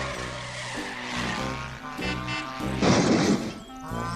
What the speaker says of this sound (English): The car chase scene went very well.